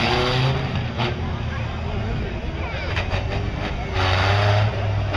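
A tough truck races around a figure-eight course at a dirt track event, its engine droning and revving hard up close, with surges in pitch as it powers around the turns, under an announcer's running commentary.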